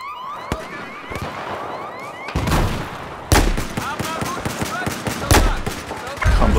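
Sharp rifle shots and gunfire crack out in Battlefield 4, Obliteration mode, several loud reports in an irregular sequence over a busy game mix, with sirens and faint voices in the background.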